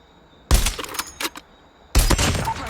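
Sniper rifle shots in Call of Duty, two sharp, loud cracks about a second and a half apart, each followed by a brief echoing tail against quiet game background.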